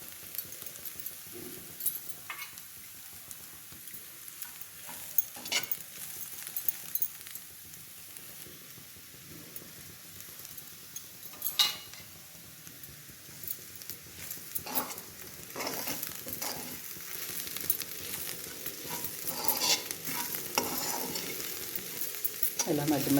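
Onions seasoned with salt and turmeric fry in a pan with a soft, steady sizzle, broken by repeated scrapes and taps of a spoon stirring, close and fairly quiet, growing slightly louder toward the end.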